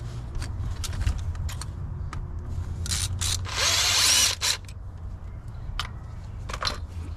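A ratchet with a 12mm socket loosens the fuel rail bolts on a turbocharged K20 engine in an EF sedan during a fuel injector upgrade, giving scattered close clicks and a short louder burst of ratcheting.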